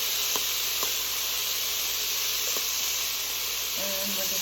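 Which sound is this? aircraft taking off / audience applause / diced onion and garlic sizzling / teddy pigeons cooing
diced onion and garlic sizzling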